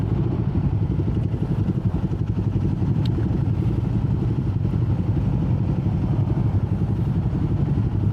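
Steady engine rumble and clatter of passing motorcycles, including Guerilla 450s, riding a group of muddy roads in rain, continuous and fairly loud, with no voices.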